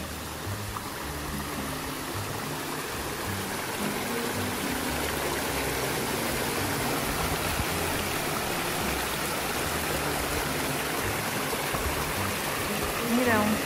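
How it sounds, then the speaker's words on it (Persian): A forest waterfall stream pours across a road in a steady, broad rush of flowing water that continues unbroken throughout, with voices faintly underneath. "آبشار از وسط جاده رد میشه"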